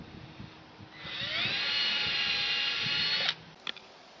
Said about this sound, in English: I've marked my hole, now it's time to drill.